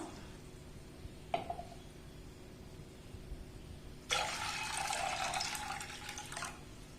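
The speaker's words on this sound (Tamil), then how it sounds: "கொஞ்சம் தண்ணி, நம்ம வந்து நெல்லிக்காய் மூழ்கிற அளவுக்கு தண்ணி சேர்க்கணும்" Water runs steadily into a vessel of gooseberries for a gooseberry pickle, a close splashing fill lasting a couple of seconds after a brief clink, then stopping.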